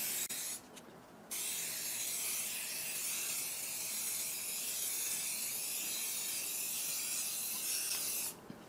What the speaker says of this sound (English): you're going to want to spray it